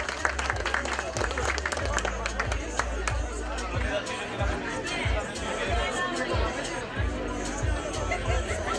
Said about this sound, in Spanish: El aplauso fuerte, señoras y señores, para los piostes.